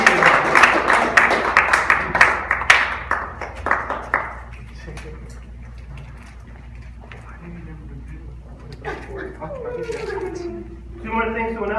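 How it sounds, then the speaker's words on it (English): An audience at a Toastmasters meeting claps loudly for about four seconds, the applause fading out before a person starts talking. "give them a round of applause."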